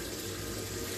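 Water runs steadily from a kitchen tap while dough for meat and vegetable samosas is mixed by hand, a close, continuous broadband hiss with no talk.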